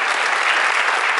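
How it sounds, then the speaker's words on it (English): An audience at a garden awards event breaks into a round of applause, a loud, even wash of many hands clapping close by, with no voices over it. "we really should give a nice round of applause to Bill Schwarzkopf"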